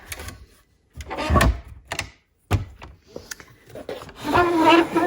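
A wooden drawer in a craft room slides open with a dry rubbing scrape, followed by a few knocks and the rustle of items shifting inside, close and fairly loud.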